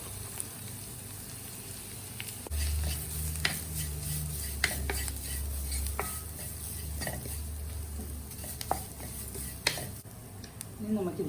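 Drumstick leaves and green chilies are stirred in a hot pan, a steady loud sizzle with repeated scraping and clinking strokes of a utensil against the pan throughout.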